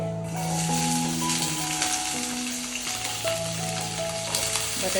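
Potatoes frying in a pan for sabudana khichdi, a continuous crackling sizzle with steady hum-like tones running beneath it, moderately loud and close.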